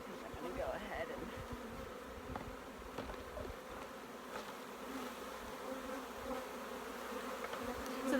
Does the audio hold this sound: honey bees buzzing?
yes